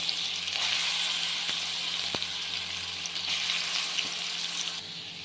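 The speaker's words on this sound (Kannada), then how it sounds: "ಇವಾಗ ಇದಕ್ಕೇ ನಾನು ಈ ಮ್ಯಾರಿನೇಟ್ ಮಾಡಿಟ್ಟಿದ್ವೆಲ್ಲ ಚಿಕನ್ನು ಇದನ್ನು ಹಾಕ್ಕೊತಾ ಇದ್ದೀನಿ" Marinated chicken hitting a hot whole-spice tempering in a pan, a bright steady sizzle and crackle with a few faint clinks, close and continuous without talk.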